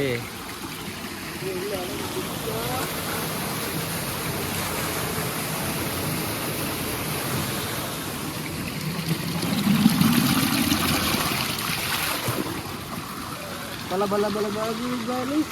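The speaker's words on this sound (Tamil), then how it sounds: "பார்த்தீங்களா தண்ணி ஓடுது." Water runs and gushes near a village well in a steady, rushing flow that swells slightly midway, while people talk over it.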